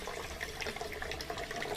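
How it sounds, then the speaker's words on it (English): Leftover water drains from the open drain tube of an LG washing machine that won't drain, a faint, steady, continuous trickle and rush with no voices. "I'm going to open up this tube and let any water that's left in the machine drain out"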